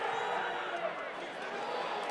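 A rugby stadium crowd at a USA vs Chile World Cup qualifier roars in a dense, sustained wash of cheering that fills the whole moment, with a commentator's voice faintly mixed in.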